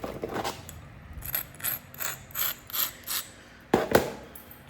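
A coastal clay stone point is trimmed by flintknapping, with a series of soft, raspy scraping and rubbing strokes in a steady rhythm, then a couple of sharper close clicks near the end, heard without speech.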